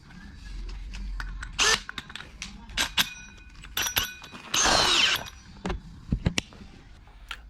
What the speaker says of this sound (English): so then we can just whiz through cutting the downlight holes for the downlights